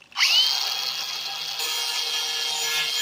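An electric grinder bites into aluminum scrap, spinning up sharply and then holding a loud, steady whine with a slight shift in tone partway through.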